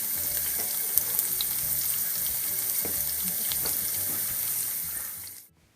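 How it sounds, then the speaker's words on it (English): Chopped onion, cinnamon sticks, cardamom pods and anise fry in several tablespoons of hot oil for daal gosht, giving a loud, dense, steady sizzle and crackle close up that cuts off abruptly near the end. "Heat 5 to 7 tablespoons of oil. Then you add 1 chopped onion, 3 cinnamon sticks, 3 elaichi pods and 3 anises."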